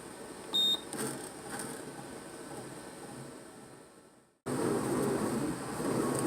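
An old 1990s bread maker starts mixing dough: a quiet hum with a short beep, then a pause, then a louder steady motor churn that runs on to the end.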